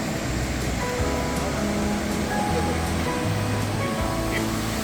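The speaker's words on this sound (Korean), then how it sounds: "시원하게 계곡물이 흐릅니다" A mountain stream rushes through the Daewonsa valley on Jirisan, a loud, constant broadband roar of flowing water heard close by, with a murmur that may be voices underneath.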